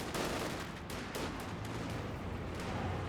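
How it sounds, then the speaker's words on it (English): Rifleman squad gunfire in Company of Heroes 2, with a dense, continuous clatter of rifle and machine-gun shots and occasional heavier booms in a busy battle. "Good focus fire there by the rifleman."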